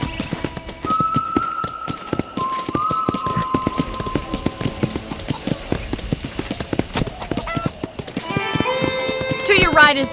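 Horse hooves clip-clopping while riding in Red Dead Redemption, a steady riding rhythm under a voice and music, with brief whistling toward the end.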